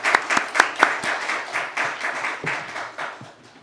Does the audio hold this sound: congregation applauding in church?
yes